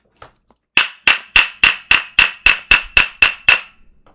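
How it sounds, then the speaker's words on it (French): Gavel hammer banging at a mock tribunal, eleven loud, evenly spaced wooden knocks in a quick steady rhythm, close and alone with no voices. "Allez, le marteau."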